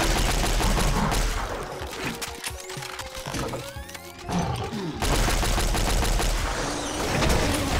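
Silenced gunfire in the Doom mod Plutonia 2, played co-op with Brutality Doom, as dense, rapid muffled shots over a busy game soundscape with heavy low rumble, thinning briefly midway before resuming loud and continuous.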